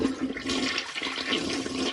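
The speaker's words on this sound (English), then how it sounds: "Before you rush, you need to flush." A toilet flushes with a steady rush of swirling water, loud and close, filling the whole couple of seconds with no voices.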